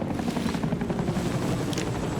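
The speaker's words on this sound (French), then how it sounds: "Et ils ont l'hélico." A helicopter in the battle royale game Warzone gives a steady, loud rotor drone across the whole clip, with a little game noise layered over it and no speech.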